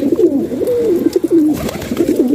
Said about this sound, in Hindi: अच्छे अच्छे कबूतर माशाल्लाह घूम रहे हैं